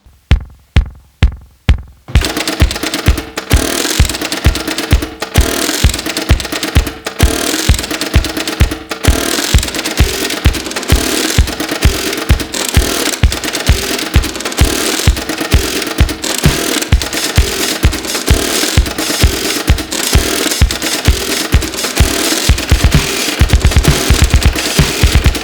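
A hacked vintage telephone exchange clatters as a drum machine, its relays snapping in a loud, rapid repeating mechanical rhythm close up, starting after a few sparse clicks and continuing steadily.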